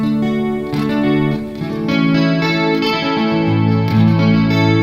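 Sustained electric guitar chords with a shimmering chorus effect on a guitar fitted with an eNut tuning system, changing every second or so, loud and close with no voices.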